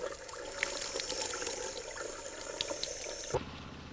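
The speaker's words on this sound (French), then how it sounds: "Le respect de la pente favorise la vitesse d'écoulement de l'eau" Water rushes steadily through a sloped drain pipe in a dense, even wash that cuts off abruptly near the end, leaving a faint low rumble. The sound is close and there is no talking.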